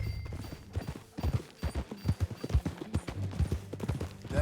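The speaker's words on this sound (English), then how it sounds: "That new horse?" Horse hooves clip-clop at a steady walking rhythm across a ranch setting in a video game, the footfalls fairly close and distinct, with a faint low hum underneath.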